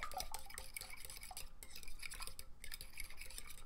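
Eggs are whisked in a bowl with a utensil, giving continuous rapid clinking and scraping against the bowl's sides, fairly close and steady, with no talk.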